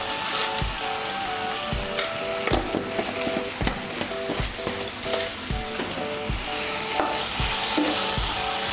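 A spoon stirs salt and sugar into a soybean kofta curry in a pan, rhythmic scraping knocks over a steady sizzle, close and clear, with no talking.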